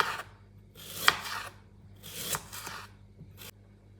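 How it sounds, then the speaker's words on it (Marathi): A knife slicing a sweet potato into thin rounds, producing a series of soft scraping cuts with one sharper knock against the board, close and fairly quiet, with no talking. "आपल्याला पातळ काप करायचे"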